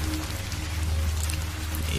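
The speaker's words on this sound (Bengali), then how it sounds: "চারপাশে বৃষ্টি পড়ছে" Steady rain patters with a soft hiss over a low, constant hum throughout.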